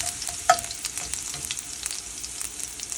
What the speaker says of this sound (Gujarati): હવે રાઈ ફૂટી છે એટલે આપણે એમાં લસણ એડ કરીશું.